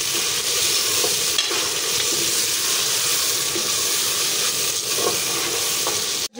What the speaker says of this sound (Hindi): अब मैं इसमें डाल दूँगी टमाटर, इसको भी छत्ती छत्ती से भून लेंगे इसके साथ ही।